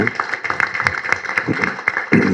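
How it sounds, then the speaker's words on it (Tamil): Crowd applause at a Tamil film event stage, honouring a woman producer, dense clapping heard up close with a steady tone and some background chatter mixed in. "அவங்களுக்கு ஒரு மிகப்பெரிய கைத்தட்டில் கொடுங்க"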